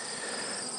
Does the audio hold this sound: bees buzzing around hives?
yes